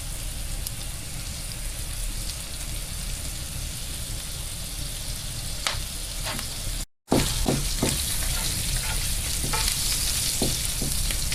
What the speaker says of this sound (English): We'll add our 4 slices of bacon and we'll begin to get those fried up a little bit